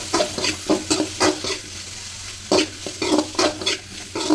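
Paneer masala cubes lightly frying in butter in a pan, steady close sizzle broken by repeated scraping stir strokes in uneven bursts, no talking.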